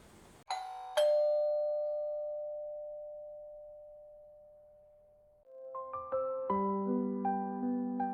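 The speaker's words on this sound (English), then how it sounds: "But then the doorbell rings." A doorbell chimes in The Sims 4: one clear ding tone that rings out and fades slowly, followed a few seconds later by a short run of bright melodic chime notes, with no voices.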